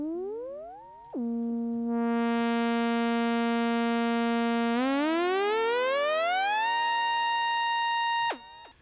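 A synth note in Reason glides up, holds steady, then climbs gradually higher, smeared by tempo-synced stereo delay into a bright, harmonically rich sweep that cuts off abruptly near the end, heard alone.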